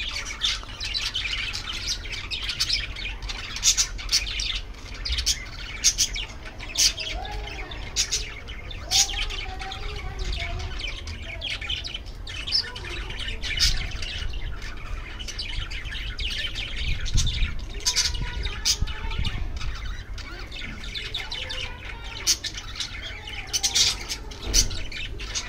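Many birds chirp, squawk and call at once in a dense, continuous chorus, with sharp tweets rising above a steady bed of calls throughout.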